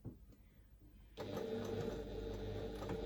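A sewing machine stitches fabric for a pouch, starting after a quiet second and then running with a steady close whirring hum to the end.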